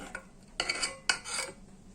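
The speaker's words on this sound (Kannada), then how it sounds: "ನಿಧಾನ ಉರಿಯಲ್ಲಿ ಇದನ್ನು ತಿರುಗಿಸ್ಬೇಕಾಗ್ತದೆ ತಳ ಹಿಡಿಯದ ಹಾಗೆ" Homemade garden-fruit jam stirred in a pot over low heat, a spoon scraping and tapping the metal in a few short bursts, close and unaccompanied by talk.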